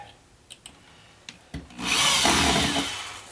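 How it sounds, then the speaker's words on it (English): Power drill boring into wood in a home woodshop, with a few light knocks and taps before the motor starts, then a sustained, fairly loud grinding whir that continues to the end. "So let's just drill."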